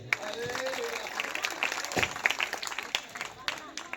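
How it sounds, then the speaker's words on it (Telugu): A church congregation clapping, a scattered patter of hands at moderate distance, with voices and some speech mixed in over the applause. "అందరు చేతులు పైకి చప్పట్లు కొట్టండి గట్టిగా"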